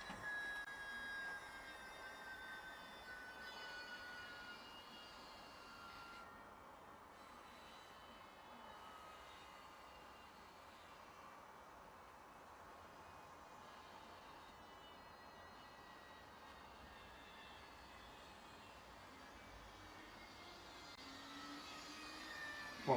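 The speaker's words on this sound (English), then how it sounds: "It sounds like the pinion motor's slipping on the gear, because the motor's going faster than the propeller." A small Air Hogs Wind Flyer toy plane on a tethered round-the-pole flight, its pinion motor slipping on a loose gear, gives a steady high electric whine with a faint tonal drone, continuous and fairly quiet for the whole stretch.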